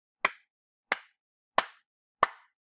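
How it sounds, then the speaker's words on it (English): Four evenly spaced hand claps at a steady beat, crisp and close, each sharp and isolated with silence between. "I will clap 4 beats, a steady beat."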